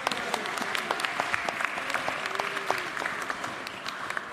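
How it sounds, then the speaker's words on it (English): A graduation ceremony audience claps in sustained, dense applause across a large hall, with scattered sharp claps standing out from the steady crowd. "Please once again give your parents a round of applause."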